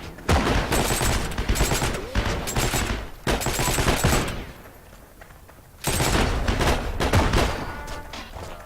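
Thompson submachine gun in Heroes and Generals fires loud rapid bursts, three long strings of automatic fire split by short pauses, with a quieter gap before the last burst.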